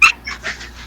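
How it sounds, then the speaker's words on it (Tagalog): Two dogs at play give a sharp yip followed by a few soft whimpers, close and fairly quiet, with nobody speaking. "Lalaro yung dalawang aso."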